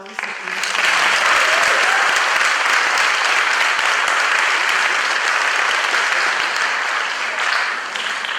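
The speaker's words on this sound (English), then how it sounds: "A round of applause for all of our recipients." Sustained audience applause at a high school senior awards night honoring scholarship recipients, a dense, steady wash of many hands clapping that swells quickly and holds loud throughout.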